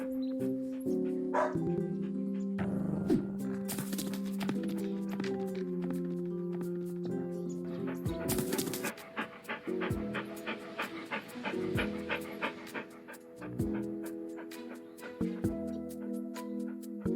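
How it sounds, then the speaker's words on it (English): A dog in a VR video game pants rhythmically and lets out a few short barks and yips, close and clear with a tonal game soundtrack underneath. "this is a very impressive game where you play with your dog, you can throw sticks around or just pet the dog"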